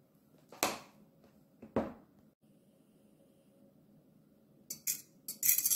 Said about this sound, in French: Mélangeons très bien l'huile et l'eau